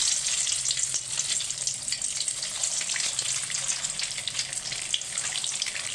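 Eggs fry in hot oil with a continuous, crackling sizzle close by, popping and spitting steadily without any talk.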